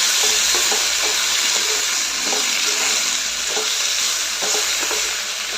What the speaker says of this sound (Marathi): त्यानंतर टोमॅटो कढीपत्ता हिरव्या मिरच्या कांदा हे सर्व चांगले तेल सुटेपर्यंत परतून घ्यायचं आहे